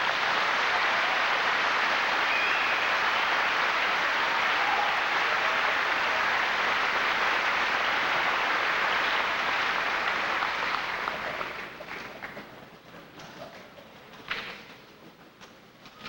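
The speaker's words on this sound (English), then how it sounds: "Let's give them a round of applause, please." A large crowd claps steadily for the 1993 Elma High School graduating class, a dense, sustained wash of applause that thins and fades out near the end.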